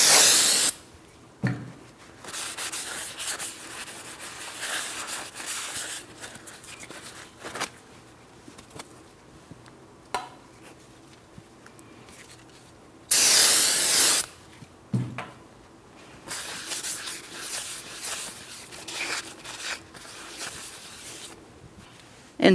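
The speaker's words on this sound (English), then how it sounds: "We're going to clean both sides of the brake rotor braking surfaces." Aerosol brake cleaner sprayed onto both braking surfaces of a new front brake rotor for a 2004-2008 Pontiac Grand Prix, heard as several loud hissing bursts of varying length separated by quieter rubbing and handling sounds.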